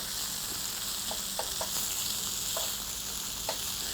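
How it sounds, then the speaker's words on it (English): Meat searing in a hot pan on a stove, a steady broadband sizzle with scattered small pops and crackles, close and continuous without any talking. "sear the outside of it"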